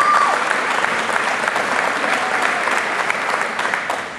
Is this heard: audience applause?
yes